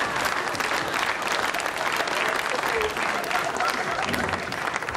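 A television talk-show studio audience applauds, a dense, even burst of many hands clapping at steady loudness throughout, with no speech over it.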